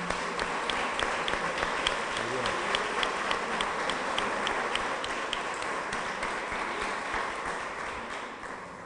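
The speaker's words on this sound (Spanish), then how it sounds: "Quiero que le deis un fuerte aplauso a ella también." An audience at a summer-course closing ceremony claps steadily and loudly, a dense wash of applause that fades slightly toward the end.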